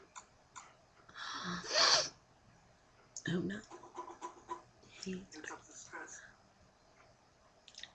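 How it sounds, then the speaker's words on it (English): A person sneezes once loudly near the start, followed by short cough-like bursts, with soft indoor chatter around it. "I have to sneeze again, I think."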